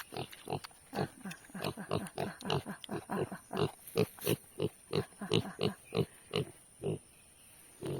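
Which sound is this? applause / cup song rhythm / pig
pig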